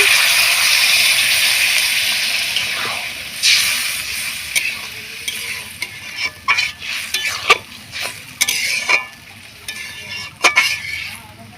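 Curry with egg and split peas sputtering in a pan after a splash of water, a broad steady sizzle with repeated scraping stirs and clinks that grow more frequent toward the end, close and fairly loud.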